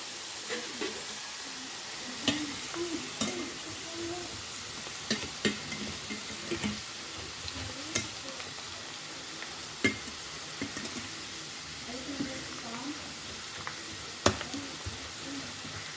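Food frying in olive oil in a pan gives a steady, close sizzle, with scattered sharp clicks and taps of a utensil against the pan throughout and no talking.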